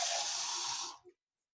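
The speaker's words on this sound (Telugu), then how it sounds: "కొంచెం వాటర్ వేసుకుంటాను, నాకు సరిపోలేదు." Water pours steadily into a pot of mutton curry for about a second in a bright rushing splash, then cuts off abruptly into near silence.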